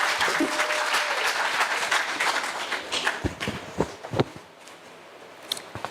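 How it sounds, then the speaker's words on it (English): An audience at a quality-assurance conference applauds the president for unveiling a journal; dense clapping at first, thinning into scattered sharper claps and fading toward the end. "I think we need a round of applause for our President for unveiling the journal"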